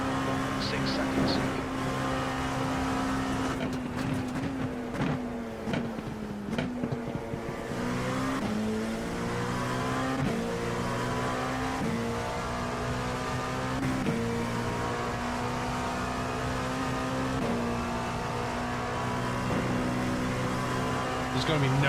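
Simulated race car engines in iRacing, a steady droning chorus of engines with shifting pitch as cars change gears, running continuously throughout under a voice talking.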